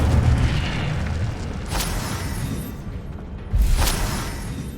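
A fire spell cast in the Hogwarts Legacy video game: two deep whooshing bursts roughly two seconds apart, each a loud booming flare over a continuous dense rumble, close and without voices.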